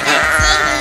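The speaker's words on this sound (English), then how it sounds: "You're a sheep." A sheep in the Skylanders Imaginators video game lets out a single loud, short bleat, close and clear with no voices over it.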